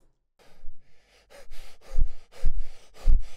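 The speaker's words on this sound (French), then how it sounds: "Et tu souffles fort aussi." Heavy, out-of-breath breathing up close, a run of loud, ragged inhales and exhales that grow stronger and quicker, with several sharp gasping breaths toward the end and no talk.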